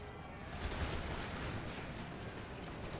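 Massed musket volleys from troops in a strategy game, including Dutch imperial forces, crackling as a dense, continuous distant barrage of overlapping shots.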